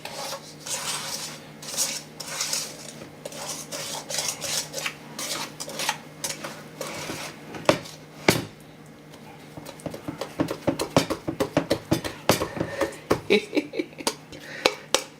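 A utensil scrapes and clinks against a mixing bowl while lemon doughnut batter is slowly stirred, a steady run of close knocks and rasps that grows quicker and busier toward the end, with some talking.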